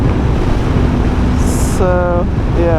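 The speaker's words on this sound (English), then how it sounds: "but it's very windy." Strong, cold wind buffets the microphone with a steady low roar throughout, while a person speaks briefly and a faint high whistle and tonal sounds come and go.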